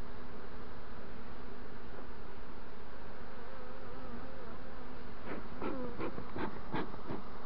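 A swarm of honey bees drones loudly and continuously as the colony is hived back during queen capture, a dense steady hum with individual bees buzzing closer and more sharply near the end.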